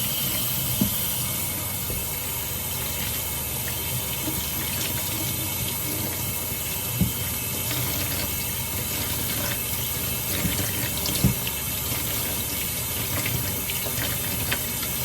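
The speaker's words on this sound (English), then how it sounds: "Rinse it off." Tap water runs steadily into a sink while soap is rinsed from a doll's hair, a loud, continuous hissing splash with a few small knocks and clatters, close by and without talk.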